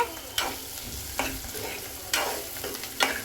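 Mushroom gravy stirred and frying in a pan, a steady close sizzle broken by four scraping strokes of a spoon against the pan, with no talk.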